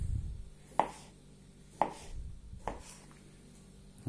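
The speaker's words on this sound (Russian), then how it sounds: "И будем резать наши огурчики." Three sharp knife strokes chop through cucumber on a cutting board, spaced about a second apart, each a crisp thud with a short slicing tail, close and clear with no talking.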